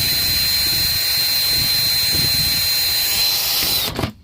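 A power drill bores a hole into a plastic bucket that will become a watering bucket for baby chicks. It gives a steady, close, high whine for about four seconds, then cuts off abruptly.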